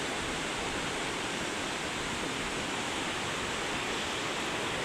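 A dangerous, fast river rushes past in a loud, dense, unbroken roar of water, close and constant with no voices or other sounds over it.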